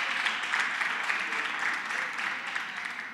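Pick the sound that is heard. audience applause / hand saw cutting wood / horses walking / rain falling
audience applause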